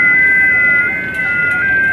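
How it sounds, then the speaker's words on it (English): Steady JT65 digital mode signal on a ham radio receiver, continuous tones over a hissy band with a faint wavering carrier, loud and close, with no voices. "Like I said, this is JT65"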